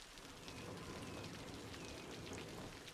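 Rain in the Cities: Skylines city-building game falls as a soft, even hiss of steady drops, fairly quiet and unbroken for a few seconds with no voices.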